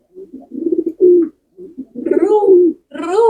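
Pigeon cooing close by, a few throaty rolling coos in short phrases with brief pauses between them, loud and clear with no other sounds.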